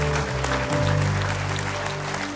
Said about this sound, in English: You can give God a big round of applause.